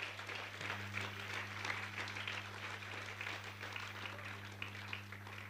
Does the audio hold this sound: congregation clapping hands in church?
yes